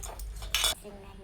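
A child stirs spices into a curry in a small pot, a spoon clinking against the metal in a few quick taps, with one sharper scrape near the middle.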